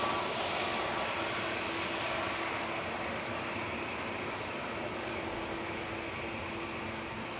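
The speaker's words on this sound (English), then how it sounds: "we're going to have an A350-1000 departing in front of us" An Airbus A350-1000 departs at Manchester Airport, its jet engines giving a steady, broad roar with a faint tonal whine, distant but sustained throughout, no voices.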